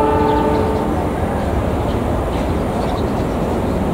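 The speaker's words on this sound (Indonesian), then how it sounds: "Sebentar lagi akan segera melintas di sini kereta api Lodaya yang diberangkatkan awal dari stasiun Solo Balapan menuju tujuan akhir stasiun Bandung." Lodaya passenger train with New Generation carriages passing close by, a loud steady rumble of wheels and cars with sustained horn-like tones early on.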